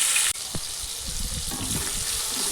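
Tomatoes sautéing in a pan for a spicy village-style okra dish, a steady broadband sizzle with faint scraping stirs, continuous and close throughout.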